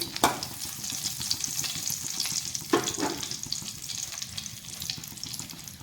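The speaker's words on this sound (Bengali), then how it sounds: "দিয়ে দিব একটা তেজপাতা" A bay leaf and a split dried chilli sizzle in hot oil in a pan just used for frying prawns. A steady, close crackle runs throughout, with a few sharp clinks from stirring and no talking.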